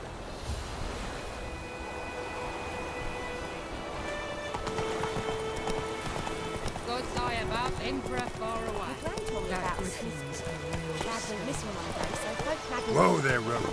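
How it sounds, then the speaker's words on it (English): A horse gallops in Witcher 3 with rapid, rhythmic hoofbeats drumming steadily throughout, mixed with rain and background music while characters speak over it. "Whoa there, Roach!"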